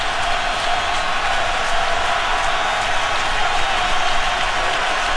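Steady, dense roar of a stadium crowd at a Steelers at Ravens NFL football game, broadband and continuous with no distinct breaks, loud and enveloping throughout.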